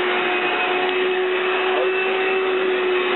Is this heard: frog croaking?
no